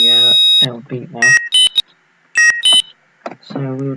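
An intruder alarm system beeps in loud, sharp electronic bursts, two clusters of repeated tones, interleaved with someone talking nearby.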